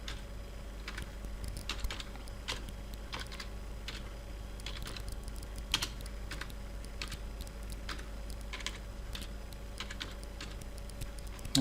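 Someone types steadily on a computer keyboard during an HTML tutorial, the close, quiet clicks coming in short bursts over a low electrical hum.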